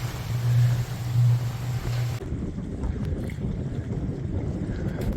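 A 15-knot wind blows while sailing near Kekova Island, Turkey, with loud buffeting rushes against the microphone that ease into a steadier, quieter wash of water and wind.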